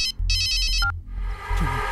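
A phone ringtone plays in short bursts of bright electronic tones, loud and close, with a low rumbling backing underneath.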